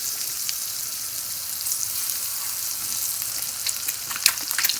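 Halved boiled eggs sizzle yolk-side down on a hot tawa over a medium flame, a steady close frying hiss with occasional louder crackles and pops.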